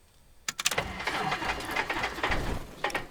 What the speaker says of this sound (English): When the cylinders start firing is when you smoothly advance the mixture to full,